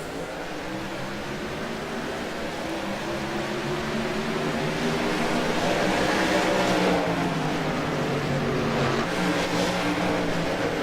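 Race cars roar as they accelerate together at a green-flag restart, a dense, loud engine drone with rising pitch bands and overlapping revs from a pack running side by side.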